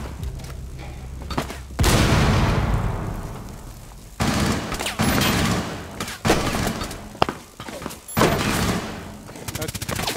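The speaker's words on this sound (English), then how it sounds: "I'm gonna throw a grenade at him." Grenade blasts and heavy gunfire in Rainbow Six Siege on the Chalet map: a sudden loud boom near two seconds, then several more sharp bursts and rattling shots with debris crunch, loud and close, alongside occasional game noise.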